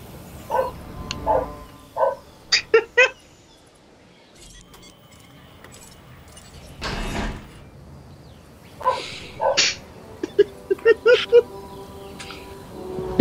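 A dog barks in short bursts of sharp woofs and yips, some in quick clusters, mid-distance. A few other thumps and small noises come between the barks.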